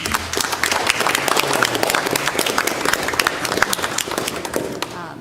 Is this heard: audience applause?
yes